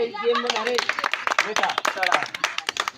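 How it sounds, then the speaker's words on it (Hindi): An audience claps hands at a Bundeli folk khel performance, with quick uneven claps mixed under loud talking. "तालियां बजा।"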